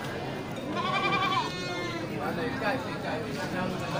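A few wavering goat bleats ring out nearby at a livestock market, over a busy background of people talking.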